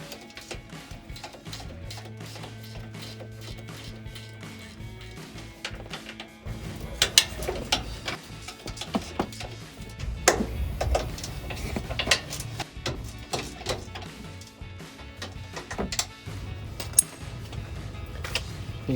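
Electric ratchet with a 15 mm socket spinning bolts loose on the upper A-arm of a 2009-2020 Ford F-150, bursts of whirring and clicking with metallic clanks between, close by.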